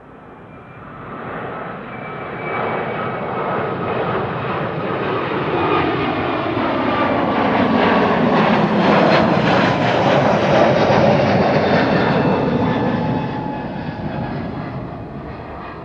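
An Airbus A321neo jet airliner, first flown June 2021, passes at Amsterdam Schiphol Airport, its loud, steady engine roar swelling to a broad peak mid-pass and then easing away, with no voices.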